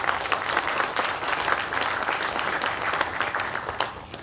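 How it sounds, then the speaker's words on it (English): Steady, dense audience applause fills a book launch event at Rajbhawan, continuous hand clapping from a sizeable crowd at even loudness throughout, with no voices rising above it. "This calls for a big clap."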